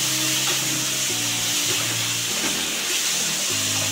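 Okra and tomato curry being stirred in a pan, a steady close sizzle and frying hiss throughout, with soft scraping of the stirring spoon and a low hum beneath it.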